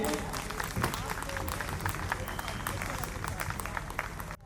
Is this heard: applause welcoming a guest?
yes